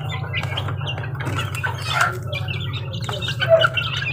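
Young chicks peep and chirp in a steady cluster during feeding, with a low hum underneath and a few louder squawks toward the end.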